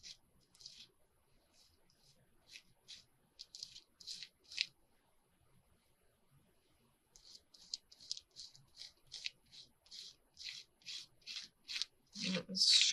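A little spoon scraping paste across a craft mat, a series of short, quiet rasping strokes in two bursts with a pause between, close by.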